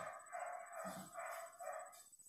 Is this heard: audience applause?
no